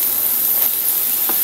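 Shrimp sautés in a hot pan with a loud, steady sizzle and hiss close by, and a couple of faint stirring scrapes break through it.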